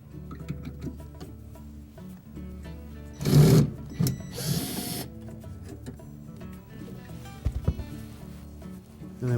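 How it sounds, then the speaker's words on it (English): A power driver backs out hex head screws holding a refrigerator condenser fan motor to its mounting bracket, two short whirring bursts close by, with lighter clicks and handling noise around them. "we're going to remove the 2 1/4-inch hex head screws that secure the motor to the mounting bracket"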